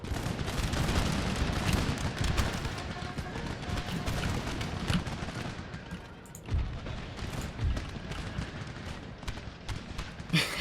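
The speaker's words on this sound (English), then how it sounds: "We're gonna get one more volley off before they get in." Musket volleys crackle across an Empire: Total War battlefield, dense overlapping gunshots and booming rumble that ease off briefly before another burst of fire.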